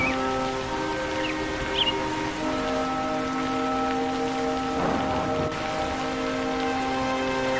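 Rain falls steadily in a Hindi animated cartoon, a continuous close hiss that runs the whole time beneath sustained musical tones, with no talking.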